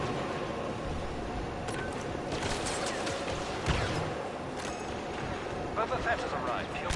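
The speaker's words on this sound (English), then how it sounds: "whoa, there's so much explosion." Explosions boom in a Star Wars video game, forming a dense, continuous roar of blasts with a sharper burst midway.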